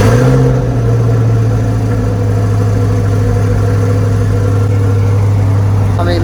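A Rapid Blue mid-engine Chevrolet Corvette C8, not fully cold, revs briefly then settles into a loud, steady, deep exhaust drone with strong low harmonics, recorded close up.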